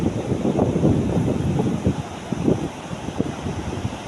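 Rough sea waves surging and breaking close by under steady wind buffeting, with no voices over the continuous churning wash.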